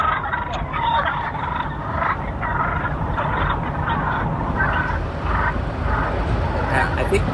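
Turkeys gobble in rapid, rattling bursts, a flock calling repeatedly at fairly close range over steady outdoor rumble, with a person speaking at times during a delivery stop.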